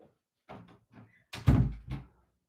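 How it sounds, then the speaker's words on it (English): A room door swings and shuts with a solid thunk, preceded by a few soft rustles and bumps, heard close up without speech. "You didn't even close my door"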